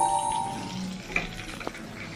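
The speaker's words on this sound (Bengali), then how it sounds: "আর এই যে লাল লাল করে ভাজা হচ্ছে" Chicken fingers fry in a pan of oil, giving a faint, steady sizzle with a couple of small sharp pops partway through, with no talking.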